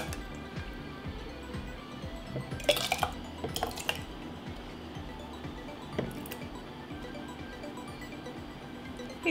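Homemade adjika spooned into sterilised glass jars, with scattered clinks and knocks of utensil against glass and soft wet squishing, close and fairly quiet, no talking.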